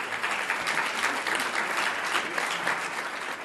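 An audience at a global climate summit applauds a world leader's speech, a steady, dense wash of clapping that holds at an even level for the whole stretch, with no voices on top.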